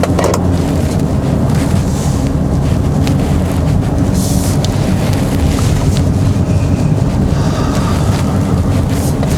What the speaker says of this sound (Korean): 속도를 항상 정속을 유지를 하면서 꾸준하게 주행하는 게 이 수로 주행의 팁입니다